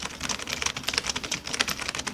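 Fast, continuous typing on a computer keyboard, a dense run of close, crisp key clicks with uneven rhythm and no pauses, nobody speaking.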